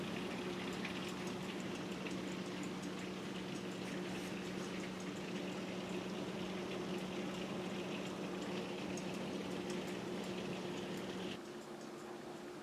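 Afternoon rainstorm in mid-July: a steady, even wash of falling rain, moderately faint, with a constant low hum running under it until the hum drops away near the end.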